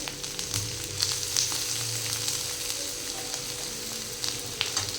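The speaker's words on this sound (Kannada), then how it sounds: "ಈಗ ಟೊಮೆಟೊ ಆ್ಯಡ್ ಮಾಡ್ಕೊಳ್ತೀನಿ ನೋಡಿರಿ ನಾನು." Tomatoes frying in a mushroom masala pan, a steady moderate sizzle with faint crackles and light stirring, no talk.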